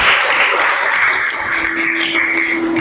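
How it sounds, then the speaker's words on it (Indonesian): Classroom group clapping during a guidance counseling lesson, a dense continuous patter of hands at steady volume throughout, with a faint tone running underneath. "sebelum lanjut kita tepuk tangan dulu nih yang meriah untuk diri kita sendiri."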